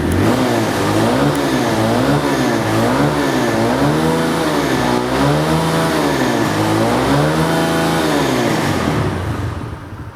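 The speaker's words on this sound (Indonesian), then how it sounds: "Coba kita ini ya, kita gas-gas tipis-tipis nih." A motorcycle with a quiet exhaust, kept for daily riding, is revved lightly several times in a row. The engine note rises and falls in gentle waves, steady and close, with no talk over it.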